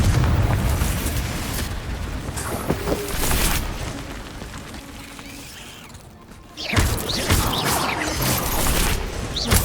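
Confringo spell explosions in Hogwarts Legacy, a long rumbling blast that fades, then another loud crashing impact, with debris-like crackles and thuds around them.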